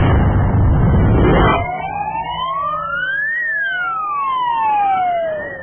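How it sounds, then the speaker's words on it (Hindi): An ambulance siren wails along a road, its rising and falling tone sweeping loudly past after a burst of broadband road noise at the start, with no talking. "अगर सड़क पर चीखती हुई एम्बुलेंस पास से गुजर जाए"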